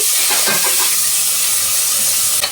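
Onions fry in a pan with spices, giving a loud, continuous hiss and sizzle close by, with a few light stirring scrapes and no talking.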